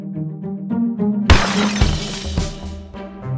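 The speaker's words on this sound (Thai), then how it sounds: "ผู้หญิงคนหนึ่งทำจานขนมตกลงบนพื้นจนเสียงดังลั่นร้าน" A dessert plate dropped in a shop smashes on the floor with a sudden loud crash and scattering shatter, heard over background music that keeps playing.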